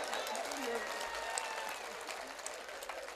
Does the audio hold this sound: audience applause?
yes